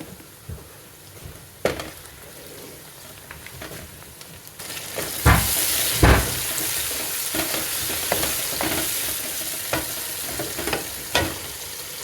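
Tomatoes and green chillies fry and get stirred in a pan while cooking mash daal, a steady sizzle with scattered scrapes and clinks of the spoon that grows louder midway.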